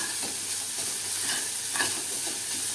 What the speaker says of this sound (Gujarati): કોબી મરચા ગાજર એડ કર્યા પછી આપણે મિક્સ કરીએ